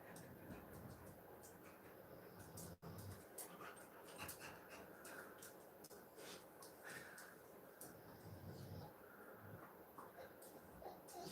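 Puppies whimper and pant softly at a distance, with a faint steady background hiss throughout and no clear talking.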